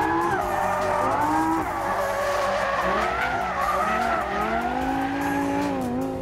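A second-generation Lamborghini Gallardo's 5.2-liter V10 screams continuously with a harsh, shouty tone from its odd firing sequence, pitch rising and falling as it revs, with some tire squeal mixed in.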